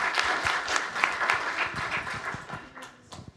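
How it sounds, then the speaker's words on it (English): An audience at a community area forum in Hounslow gives a round of applause, a brief burst of many hands clapping close by that thins out toward the end. "If we could all give a round of applause to the Hounslow Community and Family Hubs for coming."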